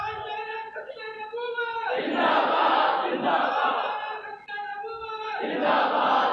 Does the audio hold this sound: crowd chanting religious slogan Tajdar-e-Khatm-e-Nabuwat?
yes